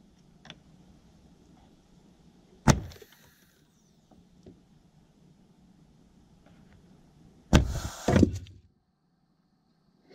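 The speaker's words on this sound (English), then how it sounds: "I'm just going to hit it one after the other and let it reset and hit it again." An A24 CO2 rat trap, clamped and screwed down, fires twice: one sharp loud snap near the start, then a louder burst of clattering strikes after a long quiet pause, with faint ticks between.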